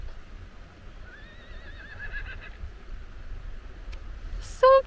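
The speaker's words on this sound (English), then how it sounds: "I think this is the Faroese horse." A Faroese horse gives a wavering whinny at moderate distance in the Faroe Islands, followed by a brief sharp, loud sound right at the end.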